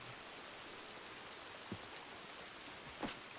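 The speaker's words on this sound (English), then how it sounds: "Just the rain hitting the scars." Steady rain falls in a video game set in a Western-style wilderness, a dense even patter with a couple of brief louder drops standing out, with no talk.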